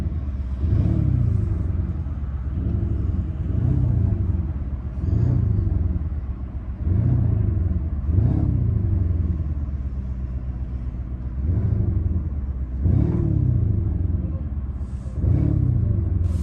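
A 2023 Lamborghini Urus fitted with an Akrapovic exhaust revs repeatedly, each deep, rumbling blip rising and falling in a regular rhythm, loud and close over a low idle.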